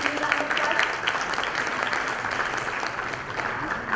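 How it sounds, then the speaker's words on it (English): Audience applause welcoming a guest at a teen hero awards event, a dense steady patter of clapping from a crowd that holds throughout, with a faint voice underneath. "Let's welcome Mr. Rajendra Giri with a huge round of applause."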